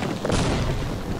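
A grenade goes off in Half-Life, a loud, close boom with a broad low rumble that starts after a brief lead-in and stays heavy for about a second.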